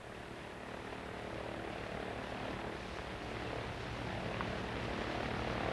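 A twin-engine propeller airliner with two 1,450-horsepower motors drones in flight, a dense, steady cabin roar with no letup.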